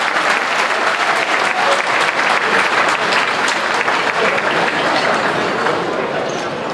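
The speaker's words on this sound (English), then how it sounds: "Give a big clap for YB Gobin" A large audience applauds steadily at a Malaysian political rally, welcoming YB Gobin with a dense, continuous clap that fills the whole stretch at full loudness, with a crowd murmur underneath.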